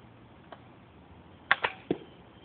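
A PVC-pressed horsebow with a wood handle gives a few faint, sharp pops and creaks as it is drawn back, three quick clicks clustered together after a single earlier tick, in an otherwise quiet outdoor setting.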